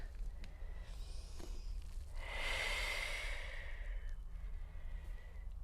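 A long, soft exhale during a stretching exercise, swelling in the middle and fading out, quiet and close with faint room noise around it.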